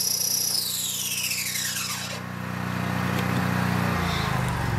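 A Vevor commercial grain mill grinds whole wheat into flour, giving a loud, continuous mechanical whine with a tone that sweeps downward partway through, steady and close with no voices.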